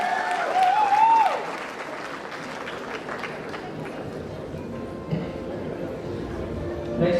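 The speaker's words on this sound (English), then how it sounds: "Please applause for all your classmates" Applause rises for medical graduates at a convocation ceremony, strongest in the opening seconds and then continuing lower and steadier beneath a voice speaking over the hall.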